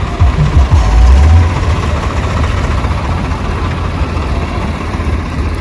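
A Swaraj 744 tractor idles nearby at a tractor rally in Mohali, giving a loud, steady low diesel rumble with a slightly stronger surge at the start.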